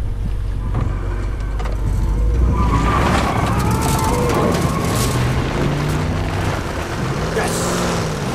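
Truck engine running in The Last of Us video game, a rough, steady rumble that swells midway and carries on, with wind-like noise and scattered game sounds layered over it.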